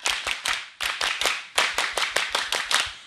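A crowd doing the Pramuka scout clap in a rhythmic pattern, crisp loud handclaps in quick groups of three separated by brief gaps, no talking.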